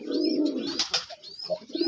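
Desi colored pigeons cooing softly on a pigeon farm in low, throaty bursts, with a brief flutter or rustle in the middle and some faint chirps above.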